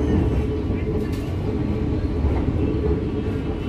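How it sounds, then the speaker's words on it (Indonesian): From inside an economy-class coach, the Cikuray passenger train rumbles as it prepares to enter Cicalengka station, a continuous low, heavy drone of wheels and carriage, fairly loud and even. "Kereta api Cikuray persiapan masuk stasiun Cicalengka"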